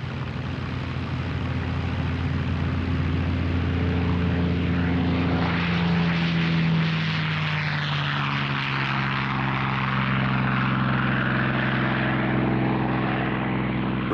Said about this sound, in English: This restored Spitfire carries the JEJ marking, immortalized by the great British ace, Johnny Johnson